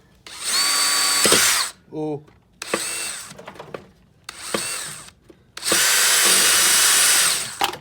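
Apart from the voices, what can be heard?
power drill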